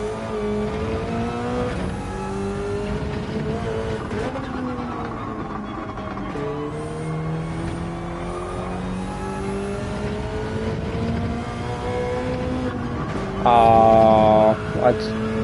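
A Gr3 race car revs hard in Gran Turismo at Road Atlanta, its engine droning loud and continuous with rising and falling pitch through shifts, and a sharp spike of higher revving near the end.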